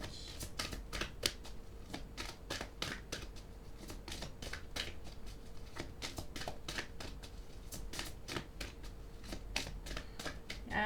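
Tarot cards being drawn and shuffled from a deck: a steady run of crisp card flicks and slaps, close and dry, repeating for several seconds with no voices.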